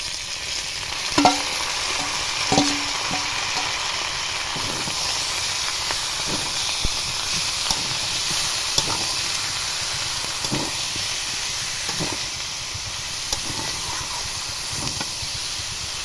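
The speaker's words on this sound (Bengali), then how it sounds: "আলুগুলো হালকা ভাজা হয়ে গেছে, এবার মুরগির ছালগুলো একই সঙ্গে একটু ভেজে নেব।" Chicken skins and potatoes fry together in hot oil in a pan, a continuous close sizzle and hiss broken by occasional light stirring clunks.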